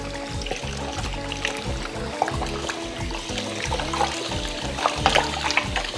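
Water pours and splashes steadily while food is washed in lemon water in a home kitchen, with a continuous trickling, sloshing flow that stays fairly close and moderately loud, unbroken by talk.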